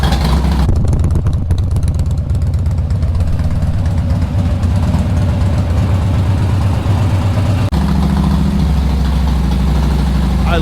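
A Harley-Davidson Dyna Street Bob motorcycle engine runs steadily, a loud, close, continuous low rumble with a brief dip partway through before it settles back to idle.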